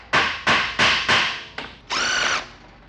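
Pneumatic impact wrench removing the transmission mount from a TH350 automatic transmission: four loud rattling bursts in quick succession, a short fifth burst, then a longer whirring spin, close and clear with no talking.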